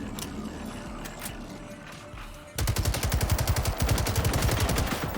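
Rapid bursts of automatic gunfire in a shooter video game erupt after a quieter stretch of sparse shots, then hammer on loud and steady to the end.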